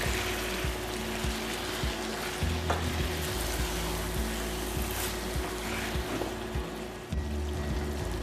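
Half a kilo of chicken marinated in turmeric and salt sizzles and fries in a pan of Chettinad masala, a steady crackle broken by repeated scraping stirs.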